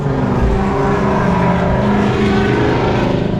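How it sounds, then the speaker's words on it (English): A Ford Mustang engine drones steadily and loudly close by, a continuous rumble with a slight rise in intensity, heard in an auto repair shop setting. "Get off the sidewalks, Mustang coming."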